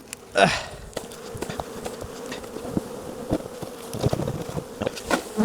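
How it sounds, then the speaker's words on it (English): Honey bees are shaken off a hive frame into a lid. A soft thud near the start is followed by dense, close buzzing from many bees that rises and falls, with no talk. "So I'm going to shake into here, and hopefully the bees will make their way up."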